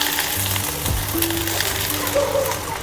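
Sun-dried onion slices sizzle in a couple of spoonfuls of hot oil while homemade masala is prepared, a steady close crackle with a brief clatter as they drop in, with faint background hum.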